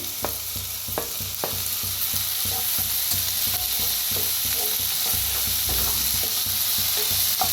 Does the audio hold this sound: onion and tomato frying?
yes